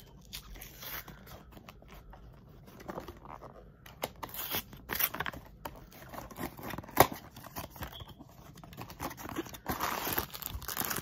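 Plastic packaging crinkles and rustles irregularly at close range, with sharp crackling bursts and scattered louder handling noises throughout.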